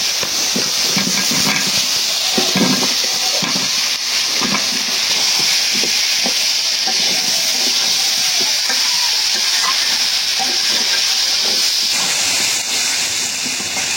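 Potatoes fry and get stirred in a pan, giving a loud, close, continuous sizzle and hiss with repeated scraping stirs through the whole stretch.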